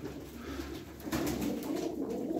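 Pigeons cooing close by in a loft, soft low repeated coos running steadily throughout, a bit fuller in the second half, with no talk.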